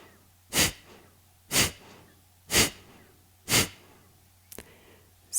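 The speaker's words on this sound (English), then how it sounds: "Kapalabhati is a breathing exercise also known as breath of fire" Kapalabhati breathing: four sharp, forceful exhalations through the nose at an even rhythm of about one per second, close and distinct against quiet, followed by a short softer breath.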